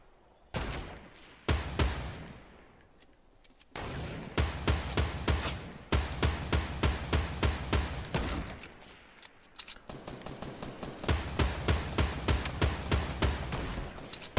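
Rapid bursts of gunfire crack out in a Fortnite match, sharp repeated shots in clustered volleys separated by brief pauses, loud and close.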